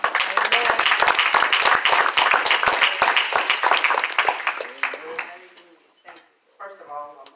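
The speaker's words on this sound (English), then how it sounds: "give another round of applause" Church congregation clapping loudly and steadily in applause, with voices calling out over it; the clapping tapers off after about five seconds and a speaking voice follows.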